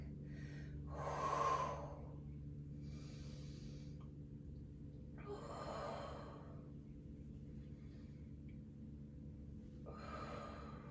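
Slow audible exhales during a hip balance exercise, three long breathy releases spaced several seconds apart over a quiet low hum, no talking.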